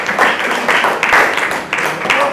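A group of children clapping in applause for a girl at a school reading event, a steady patter of many hands in a few rolling swells, fairly close and loud with no talk.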